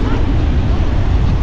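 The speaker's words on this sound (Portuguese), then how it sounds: "Gente, tiver muito barulho de vento aí, vocês me perdoem." Strong wind buffeting a microphone on a beach in Guarujá after rain, a loud, constant low rumble with roaring gusts that fill the whole short stretch.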